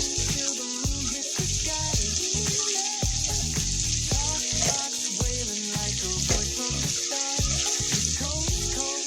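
Potatoes and soya chunks sauté in a pan for a soybean and potato curry, a continuous loud sizzle broken by scraping, clattering stirring strokes at an irregular pace, close up and with no talking.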